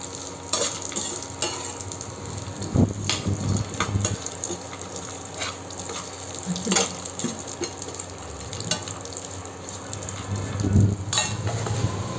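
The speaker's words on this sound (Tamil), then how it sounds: "நெய் காஞ்ச பிறகு முந்திரி பாதம் திராட்சை இது மூணுத்தையும் வறுத்து எடுத்துக்கிறோம்" Cashews, almonds and raisins fry in hot ghee for a carrot sago payasam, a steady close sizzle broken by scraping stirs and light clinks of a utensil against the pan.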